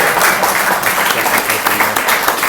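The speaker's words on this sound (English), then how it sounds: "Let's clap for them," Enthusiastic audience applause fills the room, a dense steady patter of many hands clapping at once, sustained and fairly loud throughout without a break.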